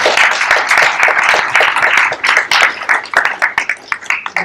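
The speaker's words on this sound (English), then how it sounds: "I would ask people to join me in giving Ronit a round of applause" Audience applause for filmmaker Ronit Bezalel, a dense burst of many hands clapping that thins into scattered individual claps toward the end.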